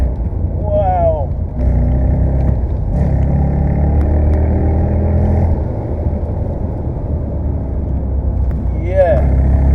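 A Mercedes-Benz SL500's engine pulls steadily from inside the cabin, a low drone rising in pitch under accelerating, with brief high tonal chirps near the start and end.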